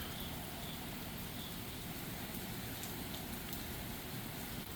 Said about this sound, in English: Beautiful rainy day.